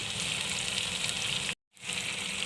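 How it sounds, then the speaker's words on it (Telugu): Sliced onion and green chillies fry in hot oil in a pan, a close, steady hiss and crackle that cuts out briefly and then resumes, with no talk. "ఆనియన్ పచ్చిమిర్చి ఇలా వేయించుకోవాలి"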